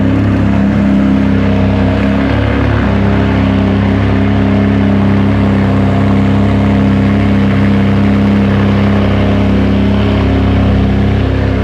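A Ferrari 599 GTB rebodied to GTO spec starts cold and revs, its engine roaring loud and close in a steady, dense drone that stays strong throughout.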